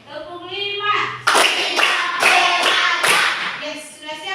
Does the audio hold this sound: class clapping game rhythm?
yes